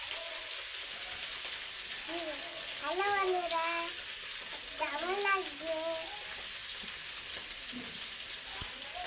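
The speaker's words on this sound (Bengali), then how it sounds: "আর এই আরও কিছুটা ভাজতে বেশি দিয়েছি" Morola fish frying in oil in a home kitchen, with a constant close sizzle running under a voice that speaks briefly twice.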